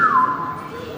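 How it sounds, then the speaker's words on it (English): A single short whistle from a person during a horse riding lesson, a bright falling tone at the start that fades out within a second. "You see, I whistle it, look at my whistle."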